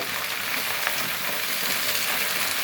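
Kolmi greens (water spinach) fry and get stirred in a pan, giving a steady, close broadband sizzle with soft scraping stir movements throughout and no talking.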